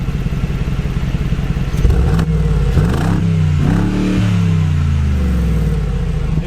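A 2019 Mercedes-Benz G550 V8 with its exhaust baffles closed revs up, a steady idle rumble rising into a climbing, loud engine note and settling back, heard close and alone.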